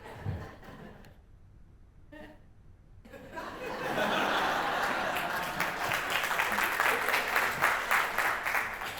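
During a combined obstetric and neonatal emergency simulation training session, a quiet room with a few faint knocks gives way midway to sustained audience applause mixed with chuckles and chatter.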